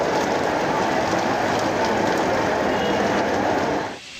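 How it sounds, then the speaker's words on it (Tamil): Moderate rain falls in Delhi as a dense, steady hiss that holds loud and even for about four seconds, then cuts off abruptly. "மிதமான மழை பெய்து இதமான சூழலை தந்துள்ளது"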